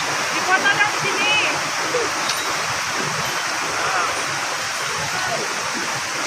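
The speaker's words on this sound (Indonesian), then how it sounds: "Air terjun." A waterfall roars as a steady, loud broadband rush on a mountain trail, continuous throughout, with a few faint voices in the background early on.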